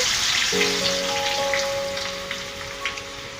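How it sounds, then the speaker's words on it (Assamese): Soaked dal fries in hot oil in a frying pan, giving a steady, close, rain-like sizzle that holds throughout, with a faint sustained tone underneath. "তেল গৰম কৰি তেলখিনি ভালদৰে গৰম কৰিব আৰু এনেদৰে ফ্ৰাই কৰক।"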